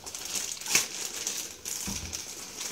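Plastic bag crinkling as a Panasonic AW-HE130W PTZ camera is unpacked, close rustling and crackling in uneven bursts with one sharper crunch, no voices.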